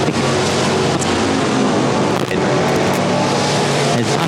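Race car lapping Sabine Motor Speedway during a July 2017 race, its engine roaring loud and sustained close by, with slight swells as it works through the turns.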